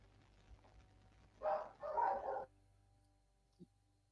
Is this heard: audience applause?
no